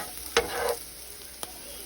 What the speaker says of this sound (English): you want to cook the peppers and the onions until they are very soft